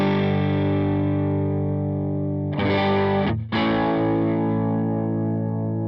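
Heavily distorted electric guitar played through a Line 6 Helix amp, speaker and mic simulation, with a sustained chord ringing loud and thick, then a brief strummed restrike and a short break before it rings on.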